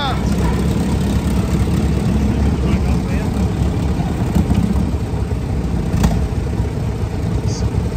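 A loud, steady vintage tractor engine chugs continuously at close range after a pull start, a low rumbling drone with some mechanical rattle and no break in the sound.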